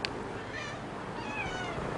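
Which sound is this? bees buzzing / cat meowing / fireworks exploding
cat meowing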